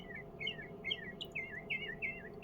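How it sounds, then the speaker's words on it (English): Several small birds chirp and tweet in quick, rising and falling bursts, repeated about every half second over a soft background hum, fairly close and clear with no voices. "Do you hear the birds?"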